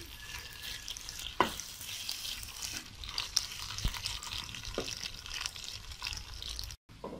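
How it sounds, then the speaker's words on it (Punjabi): Bitter gourds (karela) fry in hot ghee with a soft, continuous sizzle, broken by occasional sharp clicks and scrapes from stirring, then a brief drop to near silence at the end. "ਕਰੇਲਿਆਂ ਨੂੰ ਤਲਦੇ 15 ਮਿੰਟ ਹੋ ਗਏ"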